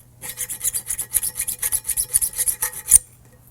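A hand file rasps against the metal housing of a Global West tubular upper control arm, cleaning the bore before a Del-a-lum bushing is pressed in; about a dozen quick, even strokes, close and steady, with no talking.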